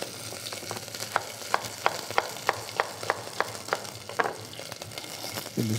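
Herbs and vegetables sizzle steadily in a hot pan, soft and close, with regular light clicks of a utensil stirring and tossing them.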